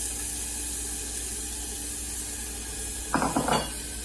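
Half a small onion goes into hot oil in a pan for fish and Irish potatoes. A steady frying hiss rises into a brief, louder crackling burst near the end, with no talking.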